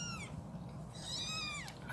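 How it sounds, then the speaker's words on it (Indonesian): A two-week-old Persian longhair kitten gives a few thin, high, rising-and-falling mewls close by, quiet and repeated, with no talking over them. "Jadi ini dia penampakan kucing yang baru berumur"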